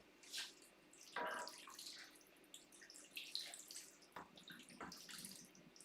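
Water runs and splashes into a cooking pot holding parsnip and sweet potato for a tagine, a faint close trickle with brief pours and drips, heard with no talk.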